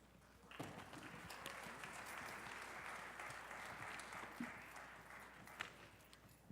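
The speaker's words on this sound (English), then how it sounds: "let's give him a round of applause as he comes out" Steady audience applause at a Dr. Martin Luther King Jr. Day celebration as a speaker walks onstage, a sustained wash of clapping from a crowd heard at a distance and fairly quiet.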